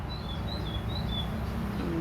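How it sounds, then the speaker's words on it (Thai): A bird calls several times in quick, thin high chirps over a steady low background rumble, faint and somewhat distant. "เสียงนกร้อง"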